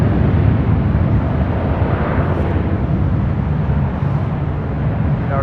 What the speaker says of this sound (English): this is KLM Flight 602 heading back to Amsterdam at 787-10 Dreamliner